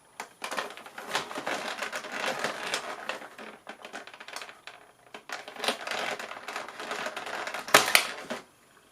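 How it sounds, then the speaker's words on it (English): Pliers working a plastic tag loose from a Mattel Cave Club Tella doll box, a run of close crinkly plastic-and-cardboard crackles and small snaps, with a sharper clack near the end. "so I do have my pliers here, which I'm going to use"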